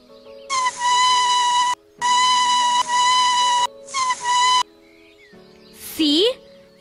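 A leaf held to the lips and blown makes loud, sustained reedy whistling tones in three long bursts, followed by a short rising squeal, close up with little background.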